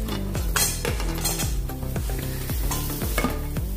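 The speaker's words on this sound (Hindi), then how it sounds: "अभी इसमें हम मूली डालेंगे" Round slices of peeled radish hitting a hot pan of spinach, with a steady sizzle broken by regular spatula strokes scraping and tapping the metal, close and moderately loud, nobody speaking.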